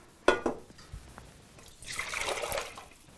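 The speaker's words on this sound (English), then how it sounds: "3 cups of water." Three cups of water are poured into a cooking pot, opening with a sharp splash followed by a softer, steady pouring gurgle that swells and fades, quiet and close.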